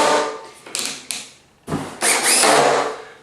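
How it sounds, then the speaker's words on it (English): A Ryobi drill at low torque drives a screw into a door hinge in short bursts, whirring and ratcheting close by with pauses between pulls of the trigger. "I'm just going to take a screw and go ahead and put that in. Let me lower my torque setting down."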